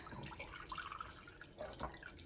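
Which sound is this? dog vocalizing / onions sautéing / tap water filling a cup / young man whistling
tap water filling a cup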